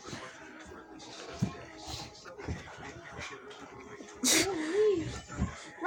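Dogs scuffle and play roughly, with whimpers and a whining yelp near the end, while a person talks over the commotion.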